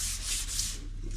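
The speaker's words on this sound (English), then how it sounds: "So I'll sand a little bit and then I'll kind of feel it." Close, steady rubbing of sandpaper by hand along a wooden axe handle, a continuous scratchy hiss with slight surges in the strokes, no talking.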